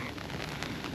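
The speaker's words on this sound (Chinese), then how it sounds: "不过现在已经下雨了" Steady rain falls on a mountain trail on Qixing Mountain, a dense, even hiss of drops that stays constant and close for the whole second, with no voices.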